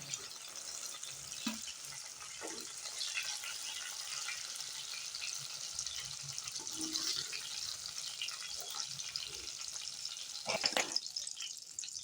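Eggplant frying in hot oil, a steady sizzle throughout, with occasional clinks and scrapes of a slotted spoon moving through the oil.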